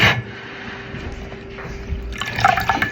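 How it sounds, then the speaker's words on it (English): Floured chicken pieces dipped into water for fried chicken, giving soft liquid sloshes and drips, quiet at first and then a busier splashing burst near the end. "Then you're gonna dip them in the water."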